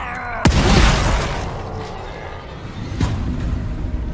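Two heavy shotgun blasts in The Evil Within 2, loud and booming, the first at the start with a rumbling tail and a second a few seconds later, ringing over a dark ambient game background.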